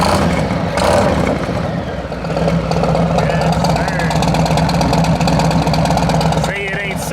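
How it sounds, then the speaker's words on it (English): A 2021 Harley-Davidson Road Glide motorcycle with a DND exhaust rumbles loudly with a deep, aggressive engine note, idling and pulsing throughout. Someone speaks briefly over it. "And the exhaust definitely sound hella aggressive."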